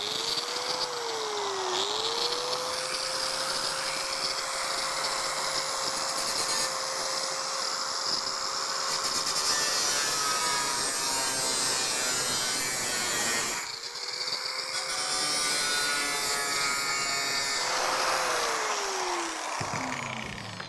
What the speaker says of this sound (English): start up this baby and we're going to make a horrible noise